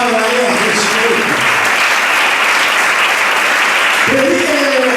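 A church congregation claps loudly and continuously in a dense wall of applause, while a voice speaks briefly over it at the start and again near the end.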